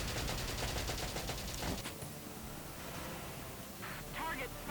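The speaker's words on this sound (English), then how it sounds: "Nina, you have full mobility here, so let's send you over to this Lancer and shoot him full of holes." Rapid gunfire as a soldier shoots at an enemy tank in the Valkyria Chronicles video game: a fast burst of shots for about two seconds, then a shorter burst near the end, over busy game sound.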